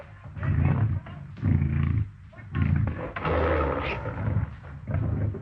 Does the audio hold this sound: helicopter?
no